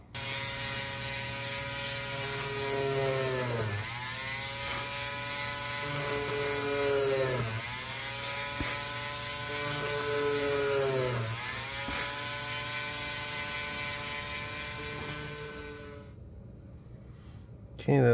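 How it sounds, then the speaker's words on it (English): A high-pitched Dremel rotary tool whines steadily while drilling holes in a circuit board, its pitch dipping and rising again in repeated cycles as it bites in, then cuts off near the end. "Bring in the Dremel."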